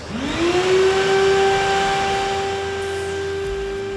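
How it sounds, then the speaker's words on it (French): A vacuum cleaner motor spins up and runs with a loud, steady whine and roar, close by, alone, during a safety day demonstration. "je leur lis un texte pendant qu'un aspirateur fonctionne"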